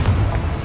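A brief, dense boom from the Confringo fire spell exploding in Hogwarts Legacy, heavy and low, filling the short moment with no speech.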